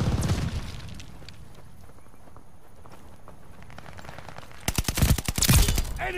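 Incoming artillery shells and gunfire in Call of Duty Vanguard multiplayer: a heavy burst of blasts at the start, a quieter stretch of scattered rapid shots, then a loud cluster of close explosions and gunfire near the end.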